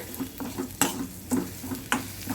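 A spoon stirs garlic and asafoetida in a pan for banana stem kootu, giving soft repeated scrapes with a few sharper knocks over a faint sizzle, close and fairly quiet.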